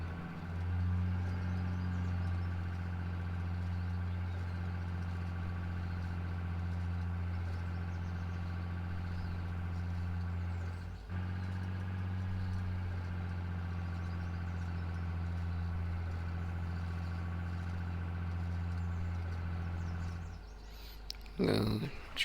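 A farm tractor engine idles steadily and close by for about twenty seconds as a constant low drone, then cuts out near the end.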